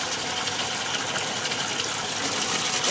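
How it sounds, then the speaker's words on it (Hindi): Water from a borewell pump gushes steadily into household vessels, a loud, continuous broadband rush that stays constant for the whole stretch with no talking. "तो देखो कितना सारा पानी हमारे बोर से निकलता है"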